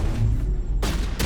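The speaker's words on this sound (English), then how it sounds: "Turn a corner and an explosion goes off." Heavy explosion and gunfire from the video game Mass Effect, loud, dense bursts of combat noise in quick succession, with a short lull between two blasts.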